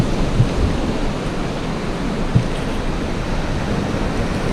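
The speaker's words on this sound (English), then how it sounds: "Seas there looking quite choppy." Choppy sea surf breaks on Eastbourne Beach on a rough, windy day, a steady broadband wash of waves and wind noise with a couple of brief thumps, no voices.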